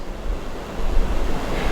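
The Ganges river rushing with heavy force, a dense broadband roar of churning water with some wind noise, growing slightly louder midway and staying strong and close throughout.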